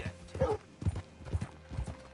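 Horse hooves clip-clop in Red Dead Redemption 2, four heavy, evenly spaced thuds close by over faint background ambience.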